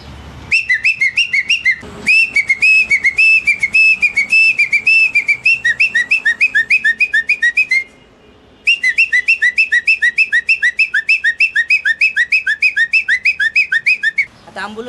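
A voice imitates the reversing chime of a Tata Indica car: a fast, repeating melodic run of whistle-like notes, loud and close, with a short pause partway through.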